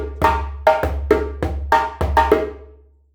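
A djembe pattern played with the dominant hand leading, two cycles of sharp hand strikes mixing deep bass tones and crisp slaps in a quick, uneven rhythm, close and loud, with the last hits ringing out.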